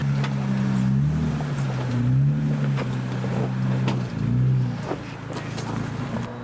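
A Jeep crawls over large boulders on a tight, wooded offroad trail, its engine droning low and steady with shifting pitch, with scattered knocks and scrapes over the rumble.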